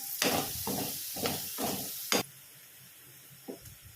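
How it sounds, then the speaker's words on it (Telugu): Chopped garlic and capsicum pieces hit hot oil with a bright sizzle, then a few stirring scrapes and hissing pulses follow, close by, before the frying settles to a soft steady hiss. "ఇదే ఆయిల్లో ఇప్పుడు కట్ చేసుకున్న వెల్లుల్లి, అలాగే క్యాప్సికమ్ ముక్కలు, కొంచెం సాల్ట్ వేసుకోవాలి."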